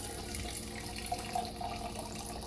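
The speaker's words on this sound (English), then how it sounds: "And then I'm going to fill the can up with water," Tap water runs steadily into an emptied tomato can in a kitchen, a continuous close splashing stream with small bubbling fluctuations and no talk.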